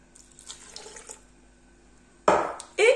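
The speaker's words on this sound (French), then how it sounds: "Vous ajoutez les 100 ml de lait." Milk is poured into a blender for a milkshake, two short splashing gushes of liquid arriving near the end after quiet kitchen background.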